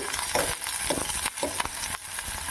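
Onions and garlic sizzle steadily in a pan for a ridge gourd and moong dal curry, with a few stirring scrapes over the constant frying hiss.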